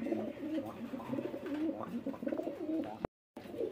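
Pigeons, including a Blackless Satin male, coo in a market setting, with steady low rolling calls throughout and a brief dropout near the end.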